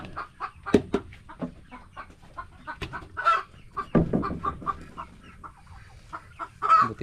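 Chickens clucking near a nest in a backyard coop, a busy run of short, close clucks and squawks with occasional louder calls, no talk.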